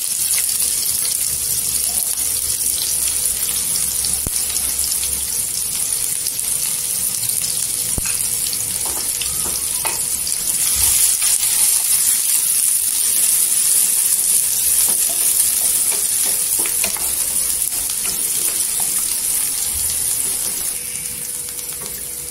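Chopped onions fry with cumin in oil, a continuous bright sizzle held close and fairly loud throughout, with faint scattered stirring ticks.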